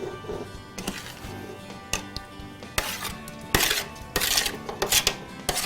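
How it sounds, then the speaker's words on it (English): Chopped vegetables are tipped into a cooking pan, making a series of close clattering, clinking knocks and scraping thuds that get louder toward the end. "Everything just goes into the pan."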